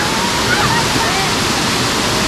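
The Dalitiwan waterfall in Majayjay, Laguna roars loud and close as a steady broadband rush of falling, running water, with a voice speaking over it.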